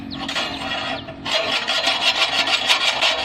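A metal rod scrapes and rasps steadily through clogged holes in a charcoal kiln, a loud, close, continuous grinding rub that grows busier partway through.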